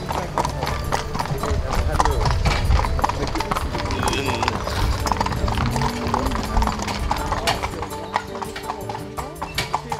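Hooves of horses ridden by a riding group clip-clop steadily at a walk, close and continuous, under a person talking.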